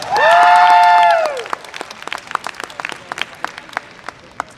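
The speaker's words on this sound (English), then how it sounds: "Give him another round of applause." A sustained bright tonal note rings out loud for about a second and a half at a cosplay contest stage show, then gives way to scattered, fairly sparse audience clapping that continues steadily to the end.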